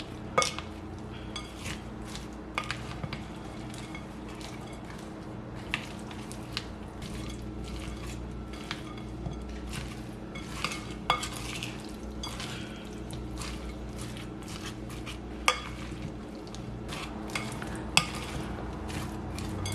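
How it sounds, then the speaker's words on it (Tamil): Rich Christmas cake batter stirred in a bowl, with steady faint scraping and clinking of a spoon against the bowl over a low background hum, and no talking. "இப்போ வந்து இதை நல்லா மிக்ஸ் பண்ணி விடுங்க."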